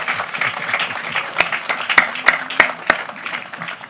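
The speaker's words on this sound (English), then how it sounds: "that deserves applause, right?" Audience applause in a conference setting at RIT, a dense wash of many hands clapping steadily, with a few sharper claps standing out near the front.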